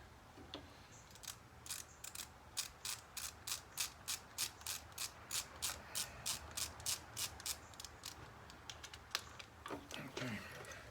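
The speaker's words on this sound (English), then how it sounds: "these little ratcheting screwdrivers are handy as hell" A small ratcheting screwdriver clicks in a steady run of sharp, evenly spaced ticks while backing out screws on the crank cover of a 1983 Yamaha Seca XJ900 motorcycle, close and fairly quiet, with a few irregular clicks at the end.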